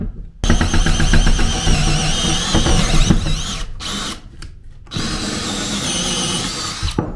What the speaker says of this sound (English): It went down through that wood like butter.